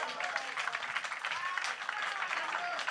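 Church congregation applauding during a French-language Sunday service, a fairly quiet, dense patter of clapping with a voice audible through it.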